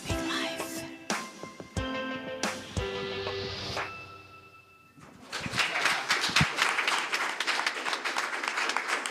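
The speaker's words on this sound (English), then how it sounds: "Another round of applause." Applause from a church congregation follows a sung worship song, with tonal singing and music fading in the first half before a dense wash of clapping takes over and holds steady to the end.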